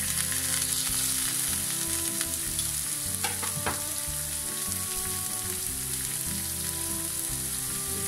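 Steady loud sizzling of ham frying in hot oil, continuous crackle and spatter close up with no talking.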